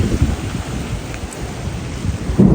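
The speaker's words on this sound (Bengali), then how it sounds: "বৃষ্টি আসতেছে" Heavy rain hisses steadily while deep rumbling thunder rolls low underneath, swelling again at the end.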